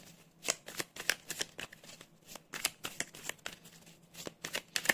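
Tarot cards being shuffled and drawn, a dense run of crisp riffling flutters and snaps, close and fairly quiet, with no talking.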